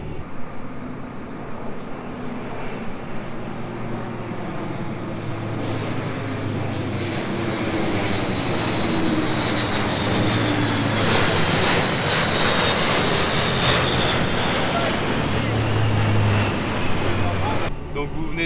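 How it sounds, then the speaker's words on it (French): Military airplanes training for the Bastille Day parade fly over near an air base, a loud sustained engine roar that swells as they pass close overhead, with a voice speaking over it. "Et donc là ils sont en train de s'entraîner avec leurs avions justement pour le défilé du 14 juillet"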